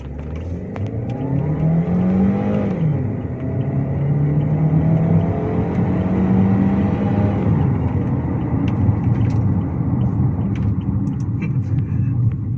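A Chery Tiggo 8 SUV in drive accelerates hard toward its rev limit, the engine note climbing in pitch with a dip at a gear shift, loud and close with steady road rumble underneath.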